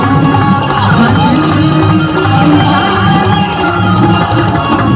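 A dense, steady crowd roar fills the festival grounds at an Itkhori stage program, with music-like tones running through the continuous din.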